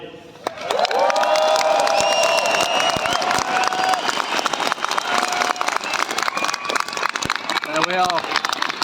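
A crowd at a farmers' protest in Whitehall applauds and cheers, with dense clapping and raised voices filling the whole stretch at steady volume, and occasional whistles cutting through.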